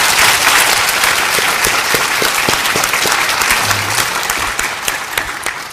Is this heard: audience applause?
yes